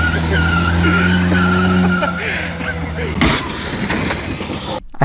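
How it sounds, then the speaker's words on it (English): Small airport vehicle doing donuts, with a long, loud tire squeal holding a steady pitch under engine noise, then breaking up into rougher scraping and a thud, with people talking over it. "He was trying to do donuts on this little airport vehicle."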